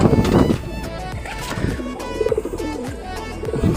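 Pigeons coo in a loft, soft repeated warbling calls mixed with fluttering and scuffling close by, while someone talks over them.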